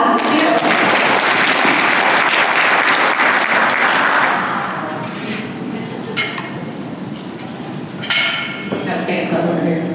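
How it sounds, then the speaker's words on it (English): An audience at an annual business meeting gives a round of applause, loud dense clapping for about four seconds that fades into scattered claps, clinking glassware and voices talking. "We give her a round of applause, too."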